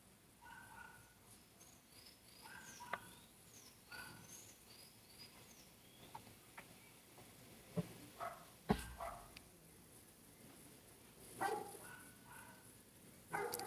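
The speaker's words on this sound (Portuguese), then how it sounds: "Desculpa, gente, o som de cachorros, só que é inevitável, né?" Several dogs bark intermittently in the distance, sharp isolated yaps scattered over a quiet indoor room with faint birdsong in the background.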